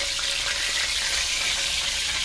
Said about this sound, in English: So this is frying faster than I thought.